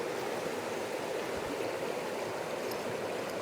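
Turbulent river water rushes and churns steadily, a dense, continuous roar of flowing current close by with no voices.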